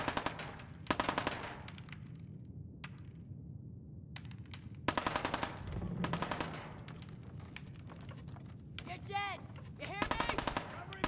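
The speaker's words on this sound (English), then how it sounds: "Attention to the distorted reload" Gunfire and a garbled, distorted reload from a post-apocalyptic shooter game: bursts of rapid shots alternate with glitchy metallic clicks and a warbling, pitch-bending mechanical sound near the end.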